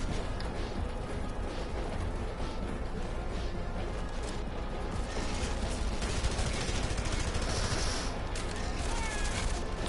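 Heavy weapons firing in the Red Faction shooter: a dense, continuous barrage of loud, crackling gunfire and blasts with no pauses, harsh and close throughout.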